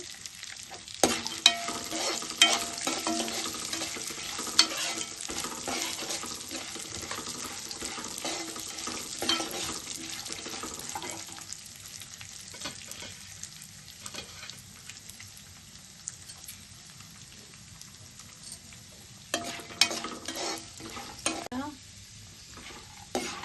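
Dried red chillies fry in oil for atukula mixture (poha snack), a steady crackling sizzle with frequent stirring scrapes and clatter, quieting in the middle stretch before picking up again near the end.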